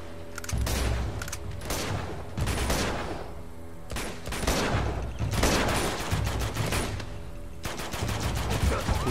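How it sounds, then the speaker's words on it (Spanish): Rapid gunfire bursts and firefights from the Uncharted 2 video game set in Borneo, with dense volleys of shots that crackle and boom in repeated clusters throughout. "cómo se notan los disparos"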